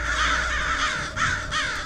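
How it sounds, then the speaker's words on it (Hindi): Several crows caw repeatedly in a tree, loud and close, with harsh overlapping calls running continuously through the short stretch and brief dips between bursts. "इतने में उसी पेड़ पर कुछ कौवे ने चहलकदमी की।"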